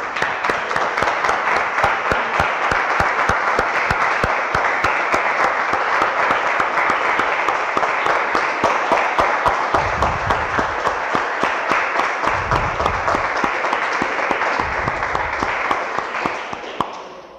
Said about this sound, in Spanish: Damos un aplauso, hermanos, al Señor.